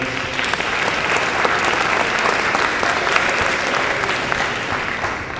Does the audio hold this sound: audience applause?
yes